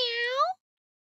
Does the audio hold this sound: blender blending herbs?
no